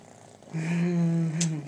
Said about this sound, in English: I am just a big old purr bucket